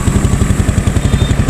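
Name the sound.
engine of a 2012 Honda Beat motorcycle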